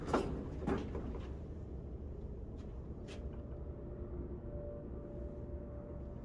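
A modded Otis hydraulic elevator in a building on Jericho Turnpike, Jericho, New York, gives a few soft door clunks and rattles at the start. A faint, steady motor hum follows throughout.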